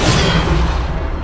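A loud, close blast from the Bombarda spell in Hogwarts Legacy, a deep boom with a rumbling decay across the whole short moment.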